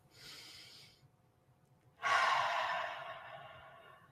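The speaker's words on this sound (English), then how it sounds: "And take 3 breaths." Slow breaths from a person, close and alone: a soft airy inhale, a pause, then a louder, longer exhale that fades out gradually.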